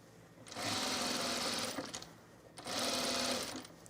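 A sewing machine stitches a seam on a boho tunic in two long, steady runs separated by a short pause, close and fairly loud with no one talking.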